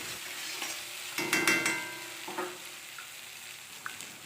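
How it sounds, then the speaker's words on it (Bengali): Small tomato pieces drop into frying spice paste, and a louder burst of sizzling rises over the steady background hiss before settling back, with a few faint utensil clicks and no talking. "দুটো ছোট্ট সাইজের টমেটো এরকম টুকরো করে কেটে মশলাটার মধ্যে দিয়ে দেব"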